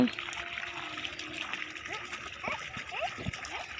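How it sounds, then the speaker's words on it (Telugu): Children splash and play in water flowing from a farm motor pump in a field, with broken splashes and trickling under a steady outdoor wash and bursts of children's voices. "పొలంలో మోటార్ ఉంటుంది కదా అక్కడ వాటర్తో ఇలా కాసేపు ఆడుకున్నారనమాట"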